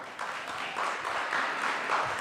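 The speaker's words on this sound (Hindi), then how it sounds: "एक बार उस fact के लिए जोरदार तालियां" Applause from an audience at a youth conclave on AI in music, a soft, even spread of clapping heard from some distance, fairly quiet and continuous with no speech.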